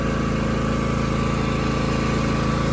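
Husqvarna TS 248XD riding mower running in reverse, its engine giving a steady, close, even drone with a faint regular throb throughout, no voices.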